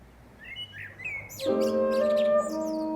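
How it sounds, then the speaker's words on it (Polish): A common blackbird sings nearby in a garden: a few soft warbled phrases first, then a louder fluting, whistled run of rich clear notes. "O, kos śpiewa."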